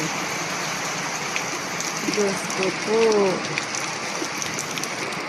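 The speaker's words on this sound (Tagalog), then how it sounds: "Ito, pagkalakas ng ulan, paano ba ako nito makakalis ng bahay?" Heavy rain pours down outside a house in a dense, steady, loud roar that fills the whole stretch, while a voice briefly exclaims partway through.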